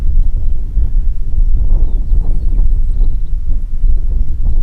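A strong side wind of about 20 miles per hour buffets the microphone on open prairie, producing a loud, continuous low roar with gusty surges and no speech.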